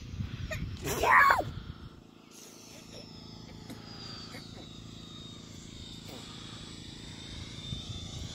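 An E-flite F-16 Thunderbird battery-powered RC jet coming in to land, a faint high whine gliding down in pitch after a brief loud burst of noise, with someone talking.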